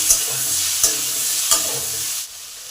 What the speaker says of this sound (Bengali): এবার এটাকে চাপা দিয়ে দিয়ে ভেজে নেব।